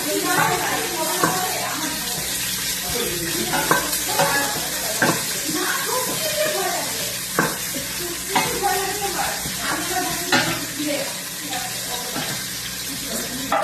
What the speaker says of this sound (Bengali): পিঁয়াজ দিয়ে দিচ্ছি পেঁয়াজ আর কাঁচামরিচ একসাথে দিয়ে দিলাম